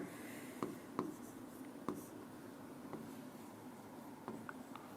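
Chalk or marker writing on a board during a math lesson, soft scratching strokes with a few sharper taps, faint and close in a quiet room.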